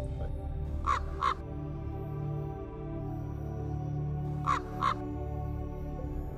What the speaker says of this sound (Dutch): Door hun luid geroep laten ze elkaar weten waar er wat voedsel te rapen valt.